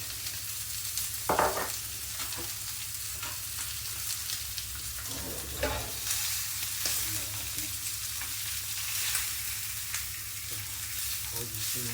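Garlic fries in a pan for beef short ribs, a steady sizzle running throughout with a few louder stirring scrapes and clatters near the start.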